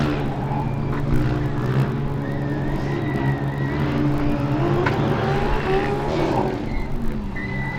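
Global Formula Racing's Formula Student race car running at a 2012 autocross event, its engine rising and falling in pitch as it accelerates through the course, loud and continuous, with tyre noise and no talk.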